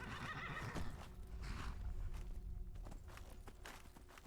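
A horse in the video game Skyrim whinnies loudly and clip-clops close by as it is mounted, with hoof thuds and game effects following, quiet overall and without speech.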